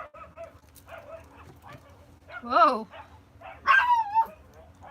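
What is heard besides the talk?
dogs barking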